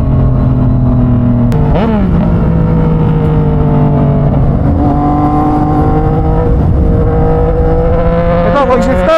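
A Yamaha MT-09 motorcycle with an installed quick shifter runs close by, its engine note rising and dropping through quick shifts and revs under steady harmonic drone, with a brief spoken voice over the engine.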